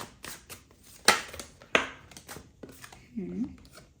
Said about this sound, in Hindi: so we have to shuffle again